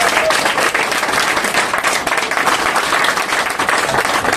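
A church congregation applauding, a dense, continuous burst of many hands clapping at close range, loud and sustained throughout without pause.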